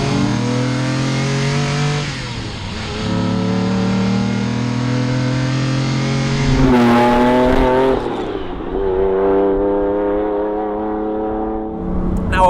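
A Lamborghini Diablo SV with a 5.7-litre V12 howls loudly as it accelerates, its pitch rising through the revs, dipping at a gear change, then climbing hard again before the note eases.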